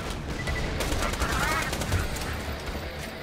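Rapid gunfire from a Hyperion SMG in the video game Borderlands 2, a dense stream of shots layered over busy in-game effects and low rumble.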